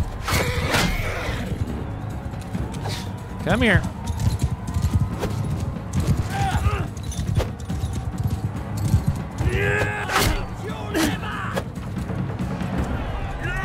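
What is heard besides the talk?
horse neighing and hooves in Mount & Blade II Bannerlord video game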